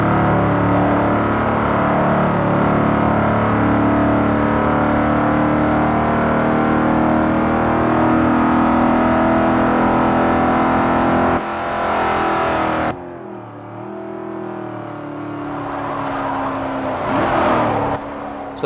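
A 2010 Porsche Panamera Turbo in Forza Motorsport 4 laps Twin Ring Motegi Speedway, its engine droning loud and steady at high revs, then briefly dropping and climbing again as it shifts and accelerates.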